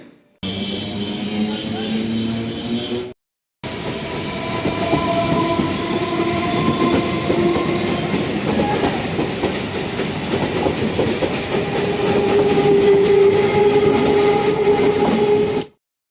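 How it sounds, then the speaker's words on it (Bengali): A train pulling out of Dakshineswar railway station, with a loud continuous rumble of wheels and carriages, a rhythmic clickety-clack and a tonal wheel squeal that rises toward the end. It runs steadily near the listener, and a brief gap interrupts it early on. "ট্রেন ছেড়ে দিল।"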